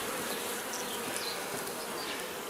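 Honeybees buzz over a brood frame during a routine hive inspection, a dense, continuous hum that is soft but steady throughout, with no voices.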